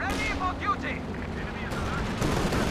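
Sustained anti-aircraft tank gunfire from a Centaur in the Company of Heroes 2 video game, dense rapid bursts layered with battlefield noise and a commentator's voice.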